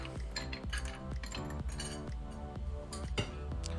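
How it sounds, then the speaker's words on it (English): Ice cubes drop into a cocktail glass for a drink, a run of bright, repeated clinks and clatters close up, sharp hits at an uneven rhythm, no talk over them. "Fill our glass with ice."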